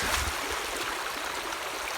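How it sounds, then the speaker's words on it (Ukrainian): Uborť river flowing past its bank in Ukraine, a steady soft wash of running water with a faint gurgle, close and continuous, with no voices. "Ось така річка."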